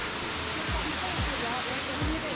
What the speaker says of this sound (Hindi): ये है वाटरफॉल, जाना वाटरफॉल।